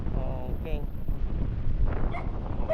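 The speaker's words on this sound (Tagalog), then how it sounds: "Nabol tayo ng aso." A dog barks and whines at motorcycle riders passing on a road, heard in short bursts through heavy wind noise against the microphone.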